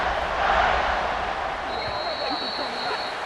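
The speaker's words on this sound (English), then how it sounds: "this crowd is buzzing after that last score" A stadium crowd at a Kansas vs UCF college football game buzzes after a score, a broad steady murmur of many voices with a faint whistle-like tone, somewhat distant and continuous.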